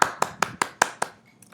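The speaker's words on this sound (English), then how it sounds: "Can I give it a round of applause?" Six sharp hand claps from a single person, evenly spaced and close, the last ones slightly softer before quiet.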